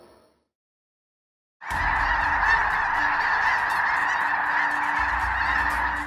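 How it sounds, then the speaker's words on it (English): After a brief silence, hundreds of geese over and on the Mississippi River honk loudly and continuously, a constant overlapping clamour of many birds. "That is hundreds of geese flying over the Mississippi River and resting on its surface as well."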